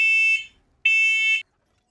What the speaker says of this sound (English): Why is my goddamn alarm going off again?